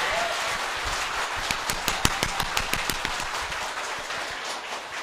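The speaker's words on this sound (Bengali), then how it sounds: "এবার জোরে হাততালি।" Audience clapping in a hall, about a dozen sharp, evenly spaced claps in a steady rhythm over a loud, constant background wash.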